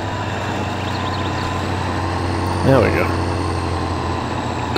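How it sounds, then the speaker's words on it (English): Heavy off-road truck in the Spintires driving game rumbles with a steady low exhaust drone, holding constant throughout with a brief swell near the end while someone talks over it. "Man, that exhaust sound is brilliant."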